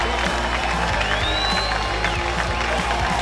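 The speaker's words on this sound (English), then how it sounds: "The crowd likes it." A rugby league crowd cheers and applauds throughout at a Seagulls versus Dolphins cup match, a dense roar under a commentator's voice.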